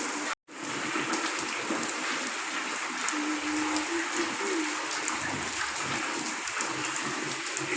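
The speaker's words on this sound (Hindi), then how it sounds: "बारिश हो रही, बहुत ज़्यादा बारिश हो रही है।" Heavy rain falls steadily in a dense, loud hiss of drops hitting surfaces, continuous throughout apart from a brief cut near the start, with a faint voice-like tone in the middle.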